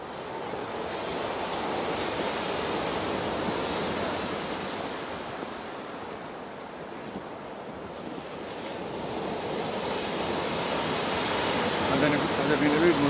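Sea waves at Batumi during snowfall roll in as a steady, broad surf roar with wind buffeting the microphone, swelling slightly toward the end, no voices.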